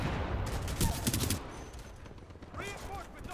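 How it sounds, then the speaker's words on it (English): Rapid automatic gunfire from a turret in the shooter game Titanfall 2, a loud burst of dense shots in the first second and a half, then quieter game noise with a shouting voice near the end. "Oh, it's a turret."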